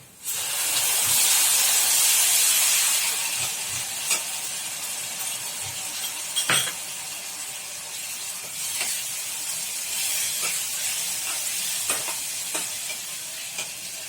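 Tomato puree hits a hot pan of egg poach curry with a loud burst of sizzling and hissing, then a steady frying crackle continues with occasional stirring scrapes, fairly close.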